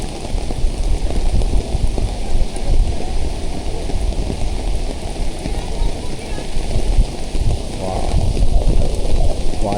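Heavy monsoon rain pours at Siddheshwar waterfall near Alibag, where muddy brown water is surging, making a dense, steady roar of rain and rushing water that stays loud and unbroken from start to finish.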